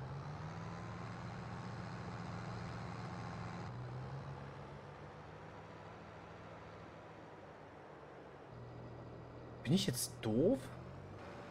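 Truck reversing in the Farming Simulator video game: a low, steady engine drone that shifts pitch a couple of times, with someone talking over it near the end.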